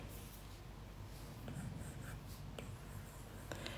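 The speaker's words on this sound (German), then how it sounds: "Müssen wir mal eine Skizze machen." A pencil sketching on paper in a quiet close-up, with short scratchy strokes that come in soft bursts and pauses, faint and intimate with nothing else heard.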